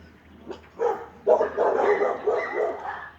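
Small Miniature Pinscher and Chihuahua mix dogs bark and yip excitedly in a rapid, overlapping burst, close and fairly loud over a low background hum.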